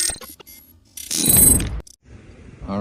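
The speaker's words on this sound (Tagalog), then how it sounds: "So iset ulit natin itong ating torque wrench." A torque wrench is adjusted to 49 newton meters, giving a few brief clicks and taps followed by a louder burst of ratcheting mechanical grinding, then quieter scattered handling noises.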